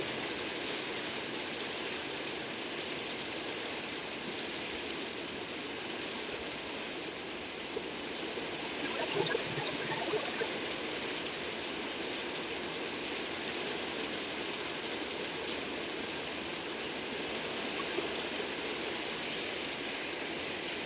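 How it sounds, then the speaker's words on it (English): Loud, steady rain pours down, a dense continuous wash of hiss that holds evenly throughout with no voices. "that rain is pretty loud."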